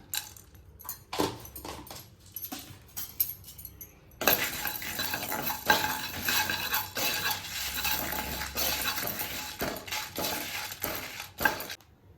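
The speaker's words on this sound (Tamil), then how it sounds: "எல்லாத்தையும் நல்லா வறுத்துக்கலாம்." Dry-roasted cumin, fennel seeds and black pepper stirred in a pan while preparing Mangalore chicken ghee roast; close scraping and clinking of a spoon against the pan, sparse at first, then dense and continuous with rattling seeds.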